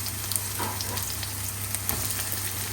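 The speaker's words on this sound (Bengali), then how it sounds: "রসুন কুচিটা একটু ভাজা হয়ে গেলে দিয়ে দিচ্ছি পেঁয়াজ" Onion added to garlic already frying in oil, giving a close, continuous sizzle with a few light crackles and spatters throughout, no voices.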